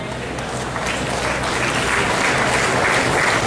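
Audience at an HR meet panel discussion applauding guest panelists, a dense, continuous wash of clapping that swells slightly and holds steady.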